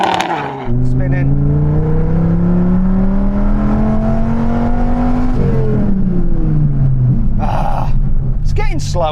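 A second-generation Dodge Viper spins its wheels on an acceleration run with a loud, sustained engine roar. The pitch climbs steadily, dips briefly at a gear change, then rises again, with tyre and drivetrain whine throughout.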